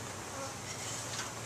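A colony of honey bees in a hive, two weeks after installation, gives off a steady, close, continuous buzz with no speech.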